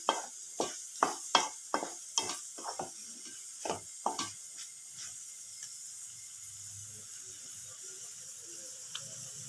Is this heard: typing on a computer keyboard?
no